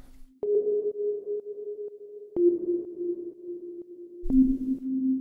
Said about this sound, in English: The first thing is this little sine wave thing.